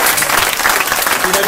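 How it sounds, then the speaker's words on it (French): Dense, loud applause from an audience at an end-of-year show, steady clapping for the full length with a crowd murmur underneath. "On peut l'applaudir s'il vous plaît."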